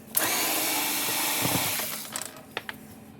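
Power driver whirring steadily as it backs out Torx security screws from a Gallagher MR2500 electric fence charger, a loud continuous motor whine lasting about two seconds, then a few small clicks and taps.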